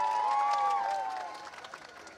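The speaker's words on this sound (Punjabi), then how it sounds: "ਇੱਕ ਵਾਰੀ ਜ਼ੋਰਦਾਰ ਤਾਲੀਆਂ" A crowd at a live bhangra show in Mohali bursts into loud, steady applause with a whistle cutting through, then the clapping gradually thins and fades.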